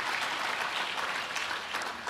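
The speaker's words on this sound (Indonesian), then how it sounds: "Tepuk tangan dong buat Tuhan." A church congregation at an evening prayer service claps together, a brief, fairly soft wash of steady applause heard from a distance.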